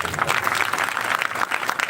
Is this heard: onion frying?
no